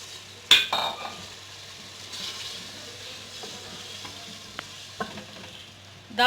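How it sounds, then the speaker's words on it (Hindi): Moong and masoor dal roasting in a pan with cooked-down masala gives a soft, low sizzle, punctuated by a loud clank at the start and a few utensil taps and scrapes, without speech. "दाल शामिल करके थोड़ी देर हम दाल की भुनाई करेंगे"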